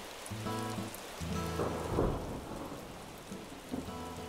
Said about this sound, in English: Is that a thunderstorm?